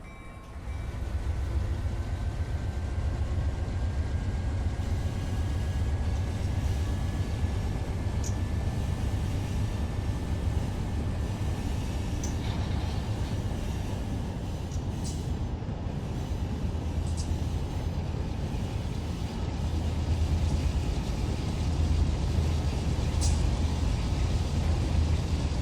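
A simulated train in Run 8 Train Simulator rolls into the Bakersfield yard, a steady low diesel rumble with a faint rising whine and a few brief metallic clicks, continuous and moderately distant.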